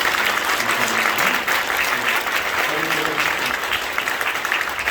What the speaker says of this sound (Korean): 인사하고 들어가실 때 큰 박수로 축복해 주시기 바랍니다.